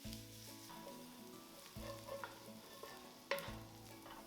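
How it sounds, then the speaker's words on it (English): Onions caramelizing in a pot for carrot ginger soup, a quiet sizzle broken by several scraping stirs of a utensil against the pot, with no talking. "Cook the onions for at least 6 to 8 minutes, stirring frequently until they are soft and golden."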